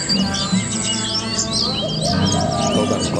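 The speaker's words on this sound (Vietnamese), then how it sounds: "Có thể nghe thấy rất nhiều loài chim ở đây hót" Many caged songbirds at a Lang Son bird market sing at once, a dense, continuous layer of chirps, trills and whistles near and far, with a few low cooing calls underneath.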